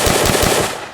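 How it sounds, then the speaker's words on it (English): Rapid full-auto gunfire from a weapon in an Unreal Engine zombie shooter, a loud, dense burst of quick repeating shots lasting under a second. "we should hear a gunshot, like we do."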